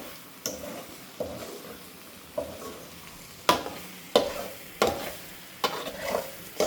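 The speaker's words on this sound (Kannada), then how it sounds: "ಸ್ಟಿರ್ ಮಾಡ್ತಿರೋಣ ಸೊ ದಟ್ ಎಲ್ಲ ಹಿಡಿಯೋದು ಬೇಡ ಅಂತ" Chopped tomato fries in a pan for homemade egg rice while a spoon stirs it, giving a soft sizzle broken by about nine regular scraping strokes that grow louder toward the end.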